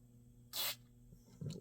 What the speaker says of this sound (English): Let's get a little spray down the power switch.